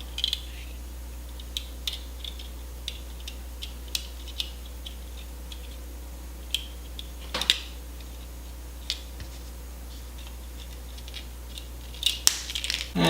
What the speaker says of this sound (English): Now we're going to cut some wire.